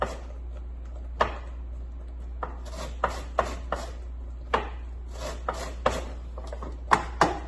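A lemon, likely a homegrown Meyer lemon, rubbed over a grater for a lemon meringue pie, giving short scattered rasping strokes at an irregular pace, close and fairly quiet over a low steady hum.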